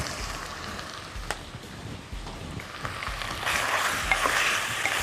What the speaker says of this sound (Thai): ใส่น้ำปลา กับน้ำมันที่ร้อนๆก็จะทำให้กลิ่นของน้ำปลาเนี่ย หอมมากขึ้นครับ